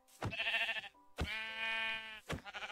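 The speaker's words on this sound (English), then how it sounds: "I found two sheep." Sheep in the Minecraft video game bleat twice in close succession, loud and near, with a short pause between the long wavering calls and a third bleat starting at the end.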